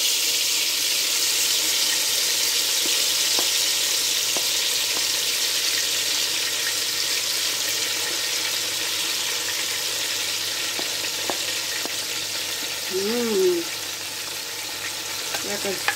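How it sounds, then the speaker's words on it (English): Onion sizzling steadily in a hot pan while fish grills nearby, a continuous bright hiss with a few soft stirring clicks and a brief faint voice near the end. "we're going to be putting our onion in the"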